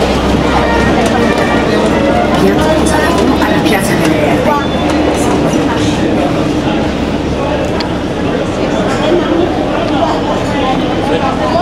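A tourist train in Verona, Italy, rumbling past up close with a steady, loud, dense roar, street noise and voices mixed in throughout.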